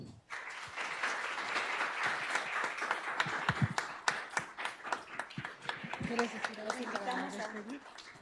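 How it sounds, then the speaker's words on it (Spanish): An audience at a book presentation in the Mexican Senate breaks into applause, dense clapping that thins into scattered claps while people begin talking and murmuring underneath toward the end. "démonos un gran aplauso."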